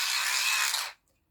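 A steady, high whirring buzz from a small hand-cranked charger runs for under a second, then stops abruptly into quiet.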